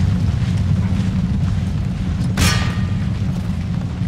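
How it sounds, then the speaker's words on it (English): Mortar fire in the strategy game Empire: Total War, a single muffled boom rising out of a steady low rumble of battlefield ambience partway through. "this is where we're gonna go for first with the old mortars"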